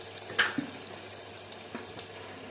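Onions sauté in a pan with chili powder, giving a soft, steady sizzle with a few light scraping stir sounds. The frying stays faint and close, with no talking.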